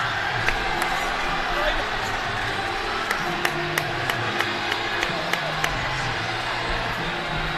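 Raider fans at a high school boys basketball championship applauding and cheering in a gym, a broad crowd roar with sharp ball bounces and claps on top, heard under an announcer's talk.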